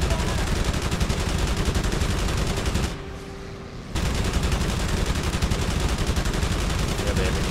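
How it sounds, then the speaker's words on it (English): Rapid continuous machine-gun fire in the aerial combat game Wings of Prey, loud and dense, breaking off for about a second before resuming just as hard. "it's the first time I've been shot at in a while"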